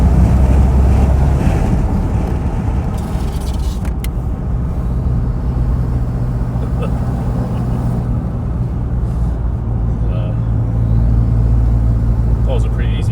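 A Toyota Hilux with a 1KD diesel engine cruises at about 60 on the road, heard from inside as a steady, loud rumble of engine and road noise mixed with heavy wind buffeting over the full stretch.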